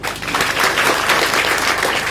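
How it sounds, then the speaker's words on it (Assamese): Children at a Children's Day literary society gathering clap their hands together, a dense, steady burst of applause lasting a couple of seconds with no voices over it. "তোমালোকে ইয়াৰ পৰাই এটা ক্লেপ দিয়া, হাত চাপৰি"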